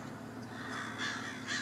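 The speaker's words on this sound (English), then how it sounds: "Blackbirds all around." Two harsh caws from blackbirds outdoors, moderately distant, rising above a quiet ambient background.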